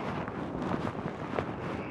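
Strong gusting wind buffets the microphone on an open hilltop above a neighborhood in Livingston, Montana, a steady broadband roar with slight surges throughout and no voice over it.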